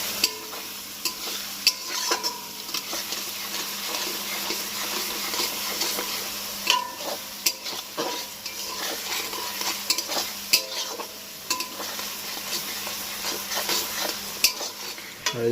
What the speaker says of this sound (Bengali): এখন পেঁয়াজ আর লঙ্কা তেলে ফ্রাই করা হচ্ছে।